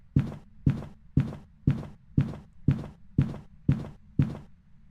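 Slow twin ghost footsteps in the Phasmophobia video game during a Blood Moon: nine heavy, thudding steps at an even, unhurried pace over a low background hum, with no talking.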